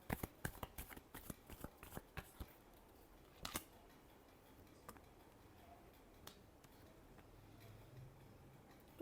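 Tarot cards shuffled by hand, a rapid cluster of crisp flicks and snaps in the first few seconds, then a few isolated taps over quiet background, soft and close.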